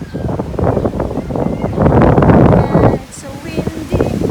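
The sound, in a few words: strong wind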